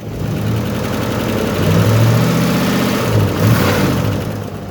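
A 1957 Mercury Montclair with a Lincoln 368 V8 idles close by, a steady, loud, low rumble with slight swells and no talking.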